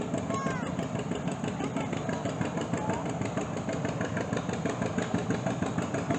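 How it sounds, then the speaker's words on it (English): A tractor with metal wheels comes down the road: a loud, steady engine rumble with a rattling, clanking texture runs throughout, close by and continuous, with a few faint whistle-like tones early on. "a very loud tractor coming down the road"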